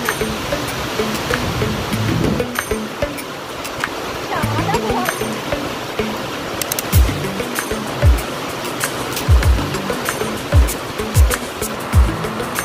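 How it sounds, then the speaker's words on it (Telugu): Heavy rain pours down in Bangalore, a dense continuous hiss close by, while a person talks over it and several low thumps break through near the end. "చాలా పెద్ద వర్షం పడుతుందండి."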